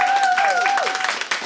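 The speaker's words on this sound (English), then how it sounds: "Big round of applause for Max Olesker." Audience applause for comedian Max Olesker at a live podcast recording, a dense wash of clapping with cheering voices rising over it, steady throughout and ending abruptly.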